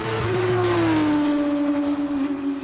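A loud engine whine sweeps past with a falling pitch as a race car roars by at about 150 mph on a straightaway during a vintage car race, with another engine droning underneath.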